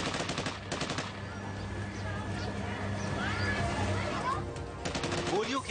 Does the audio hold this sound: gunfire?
yes